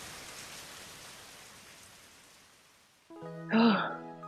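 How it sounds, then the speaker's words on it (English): A full rain downpour in the Steins;Gate visual novel roars as a dense, even hiss that slowly fades, then a voice briefly cuts in at the end. "the rain turns into a full downpour"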